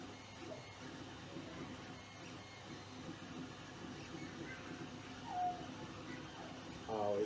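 An Alfawise U30 3D printer runs a Benchy print, its stepper motors whirring steadily with brief rising whines as the head moves quickly etching text at the base, at close range with no speech.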